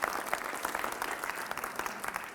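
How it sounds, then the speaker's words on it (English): A school audience claps for the band, a quick burst of crowded applause with individual claps popping through, brief and fairly close. "Dude, give it up for band. Round of applause."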